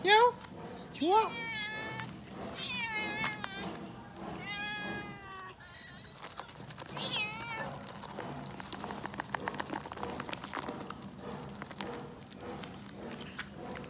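A cat gives several close, insistent meows during a morning feeding of fish bones, followed by clattering and shuffling noises with some quiet talk in the background.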